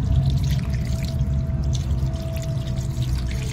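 Water poured steadily over Shiva idols during a Monday puja in the month of Shravan, a continuous splashing pour with a faint steady hum behind it, no talk.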